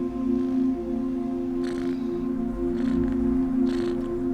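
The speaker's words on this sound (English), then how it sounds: "It's purring." A cat purrs close by with a steady, low rumbling drone, punctuated by a few soft breathy rustles.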